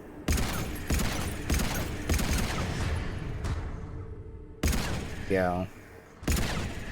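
Mass Effect 3 gameplay gunfire crackles in several loud bursts with short pauses, a spoken word heard briefly amid the shots and a rising whine near the end.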